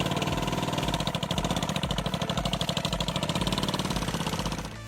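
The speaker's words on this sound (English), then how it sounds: "built around a Yanmar 840cc direct injection diesel V-twin that came out of an old cement mixer" A Yanmar 840cc direct-injection diesel V-twin, salvaged from an old cement mixer and fitted to a custom motorcycle, idles with a steady, loud, pulsing chug that carries through the whole stretch before dropping off slightly at the end.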